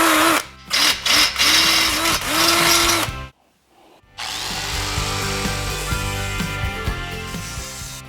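A power drill bores holes into a motorcycle bobber fender, first with a 1/8 inch bit and then with a 1/4 inch bit: a loud, close whirring drone that stops and starts in short bursts, goes silent briefly, then runs steadily.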